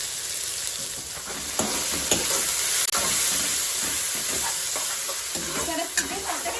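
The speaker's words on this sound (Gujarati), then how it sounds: "1 મિનિટ સાંતળી લઈશું એને।" Green onions sauté in a hot pan while being stirred and mixed, a loud, continuous sizzle and hiss with occasional scraping knocks from the stirring.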